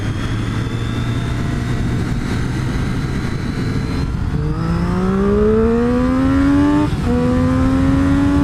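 A 2013 Triumph Street Triple motorcycle engine drones loudly while riding, holding a steady note and then climbing in pitch through the gears, with a brief dip at a shift and constant rushing wind.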